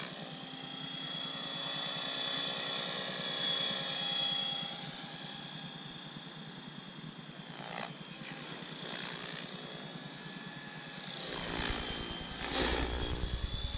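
An OXY 5 radio-controlled model helicopter flies at an airfield with a steady high whine and layered rotor tones that shift in pitch, fairly close, ending with a louder buzzing surge.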